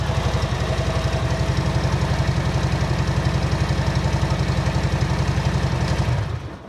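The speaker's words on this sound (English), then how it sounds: "Let's give it a little rev. Wow, much deeper." A motorcycle fitted with a TAB slip-on exhaust revs and holds a deep, steady, throbbing engine note close by, loud and continuous before cutting off near the end.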